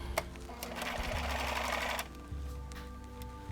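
A sewing machine stitches fabric pieces together for a pink bear, running in a steady whirring burst of about a second, then continuing more quietly with a low motor hum and a few light clicks.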